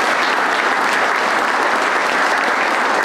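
Audience applause at the Rice County Agricultural Hall of Fame awards ceremony, a dense, steady wash of many hands clapping that stays loud and even throughout with no voices over it.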